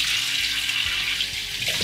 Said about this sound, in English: Give this a little rinse.